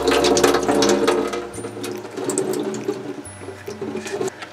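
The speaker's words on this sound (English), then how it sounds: "Give them a good swish around to rinse them off. And dump out using the fine mesh because they're a small seed." Water sloshes in a sprouting jar of small seeds and pours out through a fine mesh lid, a close, gurgling rush that runs steadily and tapers off.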